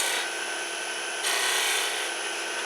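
Wood-turning gouge cuts shavings from a spindle on a lathe, giving a continuous close, dry scraping hiss that grows louder partway through.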